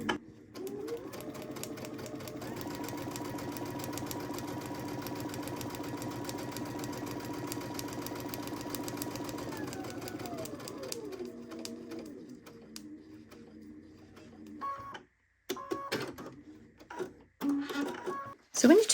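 A sewing machine stitches a medieval star quilt block with a short stitch length, running at a steady, fast whir for about ten seconds, then slowing and stopping, with a few short bursts and handling sounds after.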